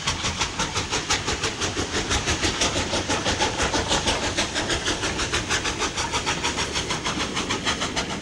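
Steam locomotive 92247, the last of its class, built at Eastleigh in 1949, pulls out on the last day of Western Region steam, its rapid, steady exhaust chuffs beating loudly and close above continuous rumbling noise.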